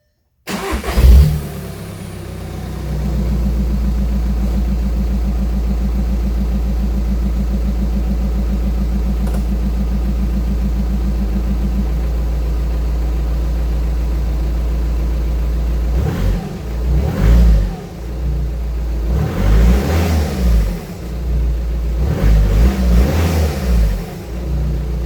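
A Volkswagen Golf TDI diesel fitted with a Banks cat-back exhaust cranks and starts, settles into a steady close idle, then is revved several times in rising and falling pulls.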